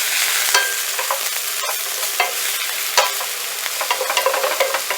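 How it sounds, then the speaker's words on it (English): Seasoned broccoli stirred in a hot pan, a steady sizzle of frying under scraping utensil strokes that come as several sharp clicks and scrapes, close and clear with no talking. "Go ahead and stir that around."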